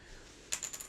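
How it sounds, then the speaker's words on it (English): A few light clicks and taps of a guitar pick dropping and bouncing on a surface, brief and close, over a quiet background. "That sound you're hearing is me dropping a guitar pick."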